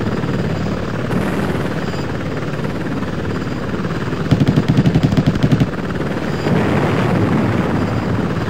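Apache helicopter in the Apache Longbow game, rotor drone running throughout and the chain gun firing one rapid burst of evenly spaced rounds midway.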